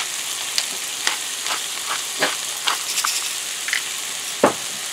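Food sizzling in a frying pan before seasoning, a steady hiss with scattered sharp pops and crackles at close range, no voices.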